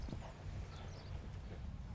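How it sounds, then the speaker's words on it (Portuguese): Two horses gallop, a stallion and a mare, with soft rhythmic hoofbeats heard at a moderate distance under low background noise, no talk. "Agora nós temos dois cavalos galopando, né, o cavalo e a égua."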